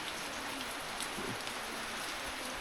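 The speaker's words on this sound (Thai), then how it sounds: "ฝนตกเลย" Steady rain falling on surfaces in a traditional tribal village in southern Laos, a dense, even hiss with scattered drops, fairly faint and with no voices.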